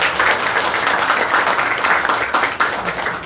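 Dense, sustained applause from a crowd honoring teachers at a school reunion for a 2004–05 tenth-grade batch, a steady wash of many hands clapping throughout.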